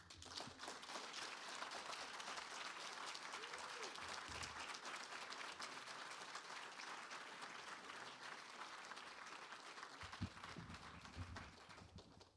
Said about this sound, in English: Can we have some more applause for Miriam Klein Stahl?